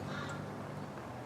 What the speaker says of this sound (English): Oh, it's a crow.